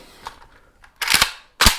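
A faint click, then two sharp metallic clacks close to the microphone as a magazine is seated into an AK rifle.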